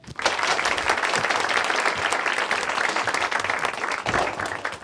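Studio audience bursting into loud, dense applause that swells quickly and holds steadily for several seconds, close and energetic with many overlapping claps.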